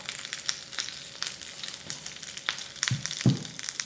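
Fried chicken 65 added to hot oil tempering sizzles and crackles steadily, with a few sharper pops and clinks of stirring near the end.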